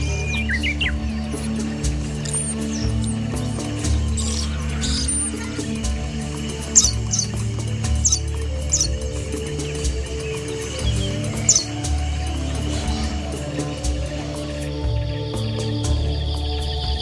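Birds chirp and call in a zoo's bird-feeding area on the Canary Islands, with scattered tweets spread over a steady low background hum, no talk.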